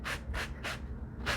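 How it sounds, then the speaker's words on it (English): A sanding block rubs along pinched ridges of folded denim in four steady back-and-forth strokes, each a close, rasping swish at an even rhythm, with no talking. "Simply sand along the ridges."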